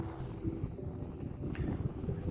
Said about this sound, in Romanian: vântul a bătut destul de tare încă de dimineață.